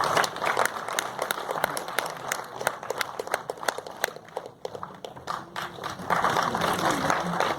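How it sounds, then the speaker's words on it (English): Steady applause from an audience at a film event for the cast and crew of Kadal the Code, with dense rapid clapping that thins and swells again near the end under faint talk. "a huge round of applause for the entire team of Kadal the Code"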